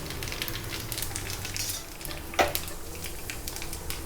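Mustard seeds, urad dal and cumin crackle in hot oil in a small tempering ladle, a steady fizzing sizzle with scattered pops and one sharp metallic clink partway through.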